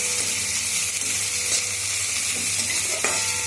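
Onion frying in hot oil with a pinch of salt, giving a steady, dense sizzle with occasional stirring scrapes throughout, close and fairly loud.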